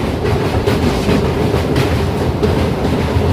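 A train on the hill route toward Malbazar in the Dooars rumbles loudly and steadily along the rails, its wheels clattering in a continuous rhythm, heard close up from on board with no voices.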